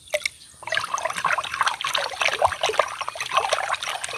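Liquid AB fertilizer solution poured for coriander growing in baskets of old cow manure, a continuous close trickle and splash of liquid running for several seconds.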